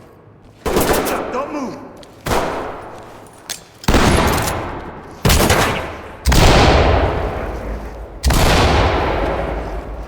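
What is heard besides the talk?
gunfire in video game Ready or Not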